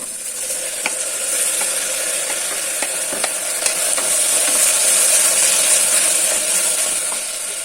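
Chopped tomato going into salted onions frying in a pan gives a loud, steady sizzle close up, with light stirring scrapes and ticks throughout and no talking.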